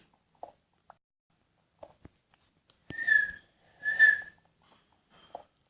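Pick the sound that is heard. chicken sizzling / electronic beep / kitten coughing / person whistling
person whistling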